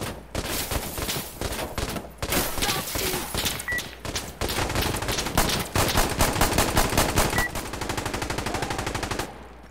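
Rapid automatic gunfire in Insurgency: Sandstorm, loud close bursts of rattling shots in quick rhythmic strings, some volleys sharper and tighter, with a few short gaps between them.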